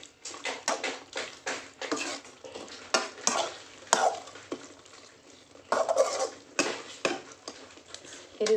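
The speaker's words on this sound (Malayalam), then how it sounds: "ഇത് മിക്സ് ചെയ്തിട്ട് ഒന്നും കൂടെ ഒന്ന് വേവിക്കണം" A spoon stirs chicken curry with coconut milk in a pan, giving repeated scraping and clinking strokes in an uneven rhythm, close and clear, with a faint sizzle beneath.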